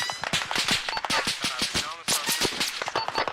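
Machine gun fire in the video game Arma Reforger around a sawmill building, with dense rapid bursts of loud gunshots cracking nearly continuously, some close and some slightly farther off, players' voices occasionally mixed in.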